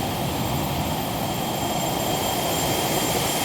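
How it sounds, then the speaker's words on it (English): Embraer Phenom 300 business jet engine in the X-Plane 11 flight simulator, a continuous, even whine and hiss with thin high tones running steadily throughout, no voices. "I happen to be flying a baby Phenom right now"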